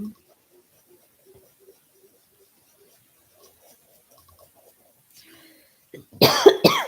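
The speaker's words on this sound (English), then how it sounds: "feel like I got a cough" A single harsh cough near the end, loud and close after several seconds of near silence with faint low sounds.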